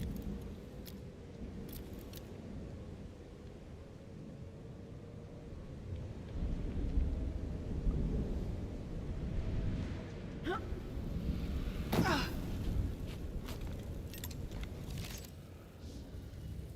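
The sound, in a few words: thunderstorm in the video game Aphelion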